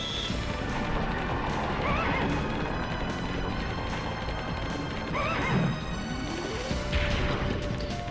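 A horse whinnies in The Legend of Dragoon, a role-playing video game, with loud neighs and clattering crashes over a dense, steady game soundtrack.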